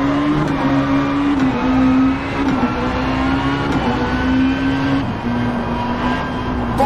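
A rally car engine in Richard Burns Rally drones loudly and continuously at high revs, pitch shifting slightly as it pulls through gears, close and steady with no voices over it.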